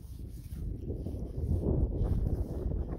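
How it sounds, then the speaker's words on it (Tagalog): Low, rumbling wind buffeting the microphone at Grimwith Reservoir in the Yorkshire Dales, a continuous blustery roar that swells slightly midway, with no talking. "Hangin lang syempre, hangin."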